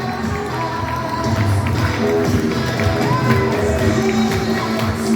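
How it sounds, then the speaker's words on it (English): An audience at an awards ceremony honoring 25 influential Asian Americans in Georgia applauds, with dense, continuous, loud clapping mixed with crowd noise and cheering that holds steady throughout. "Keep clapping for Lee."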